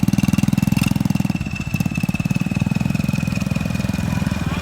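A Ford 6610 turbo tractor engine runs close by, a loud, rapid, even diesel chug with a thin whine over it and a brief dip partway through.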